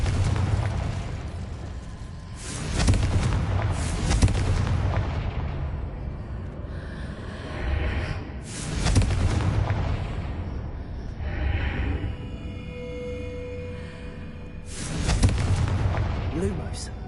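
Confringo fire-blast spells in the Hogwarts Legacy video game set off three heavy booming explosions several seconds apart, each fading into a rumble amid ongoing game sounds and voices.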